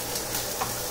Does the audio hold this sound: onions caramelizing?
yes